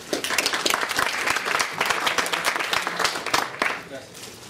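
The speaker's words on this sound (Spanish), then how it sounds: "Fuerte el aplauso, por favor." Audience applause at a corporate tech conference talk on solid-state drives, a dense steady round of many hands clapping filling the room for several seconds before fading.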